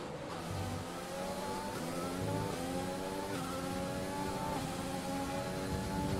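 Formula 1 car in the F1 2020 racing game, engine screaming up through rising pitch sweeps with quick gear changes, loud, continuous and close, no voices.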